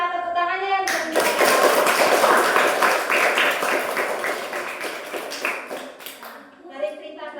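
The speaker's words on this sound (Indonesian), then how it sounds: "Tepuk tangannya yang meriah" A classroom of fourth-grade pupils claps for a girl after she tells her story, a dense burst of many small hands that swells, holds for several seconds and fades, with a teacher's voice just before and after.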